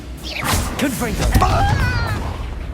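A Confringo fire spell in Hogwarts Legacy releases a sharp whooshing blast and booming impact at close range, while a character's voice speaks over the combat sounds.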